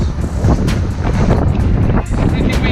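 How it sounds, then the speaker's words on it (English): Strong wind buffets the microphone in loud, rumbling gusts, a constant roaring blast with no other clear sounds. "it's pretty windy, as you can imagine"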